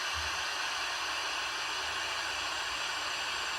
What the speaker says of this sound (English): So I want to try and record some static.